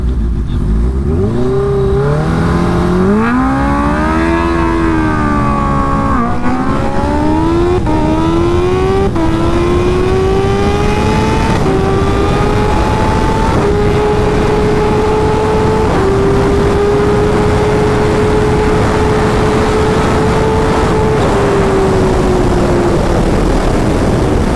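Kawasaki Ninja H2 motorcycle launching down a quarter-mile strip in Mexico City, engine loud and close, revving and climbing through several gear shifts with short dips between them, then a long sustained high pull.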